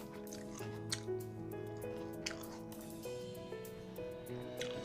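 Water drips and trickles onto wet, waterlogged clay soil around guava trees, with a steady pattern of soft splashy drips and a faint squish, fairly close and quiet, with background tones underneath.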